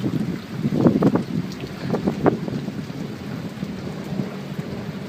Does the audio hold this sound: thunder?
yes